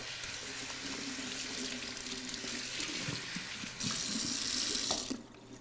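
Tap water running over a bunch of asparagus in a sink, a steady faint splashing stream that brightens as the flow hits the spears, then cuts off near the end.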